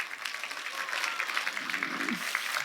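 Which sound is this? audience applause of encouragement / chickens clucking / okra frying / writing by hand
audience applause of encouragement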